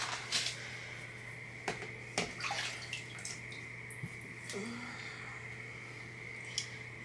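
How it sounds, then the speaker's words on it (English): Water is poured onto a potted plant, a faint, steady trickle and splash with a few sharp clicks and knocks over a low background hum, and no voices. "Give it a good water."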